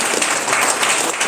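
A town hall audience of political supporters claps steadily, a dense, even patter of many hands filling the room without pause.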